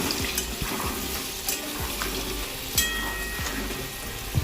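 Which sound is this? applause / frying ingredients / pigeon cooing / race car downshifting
frying ingredients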